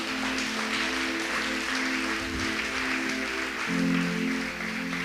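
Congregation at a church service claps in praise of the Creator, a dense sustained applause over steady organ or keyboard chords that shift midway.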